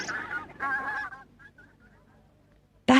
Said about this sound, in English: But the ducks and geese ate all their food and chased them away.